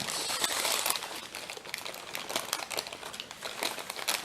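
Paper is creased into mountain folds while an origami dobsonfly model is collapsed, giving close, continuous crinkling and crackling with scattered sharp rustles, fairly quiet and without speech.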